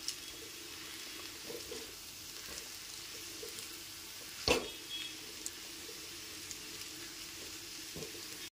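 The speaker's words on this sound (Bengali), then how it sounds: "ম্যাগি মশলাটাকেও খুব ভালো মতো একবার মিশিয়ে দিচ্ছি" Veg chowmein with Maggi masala stirred in a frying pan, giving a quiet, continuous sizzle with soft scraping and one sharp clack of the utensil midway, and no talk.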